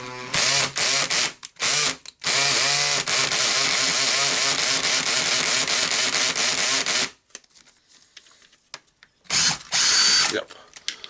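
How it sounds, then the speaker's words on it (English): A power tool whirs in loud bursts to back a screw out of the motor winding on a Hilti TE 706-AVR, a long buzzing run with ratcheting texture, then quiet handling and one more short burst. "we will unscrew the winding here"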